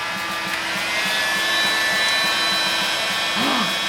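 Hot-air heat gun blowing steadily as heat shrink tubing is shrunk over cables while restoring a Sears Custom 10XL, a continuous close whooshing roar with a faint rhythmic pulsing underneath.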